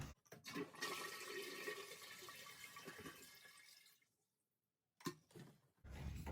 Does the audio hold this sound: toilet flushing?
yes